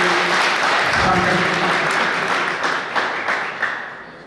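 Audience applause at an all-India Hindi poetry gathering marking a birth anniversary: dense, loud clapping from a large crowd that holds steady, then thins into scattered individual claps as it fades.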